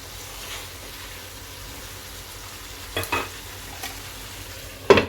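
Spice paste for a vegetarian papaya, squash and potato curry stir-fried in a pan, a steady low sizzle with a few sharp scraping stirs near the end, close and moderately loud, no talking.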